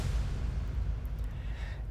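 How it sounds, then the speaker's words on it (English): A deep impact hit from a music mix rumbles low and heavy, a sustained boom that stays steady and loud throughout with no voices. "So I added an impact."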